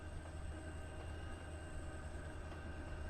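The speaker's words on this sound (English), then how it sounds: "that's just this train's making sounds" A train on an Australian route in Trainz Simulator 3 gives off a steady low rumble and hum, a continuous faint drone with no talking over it.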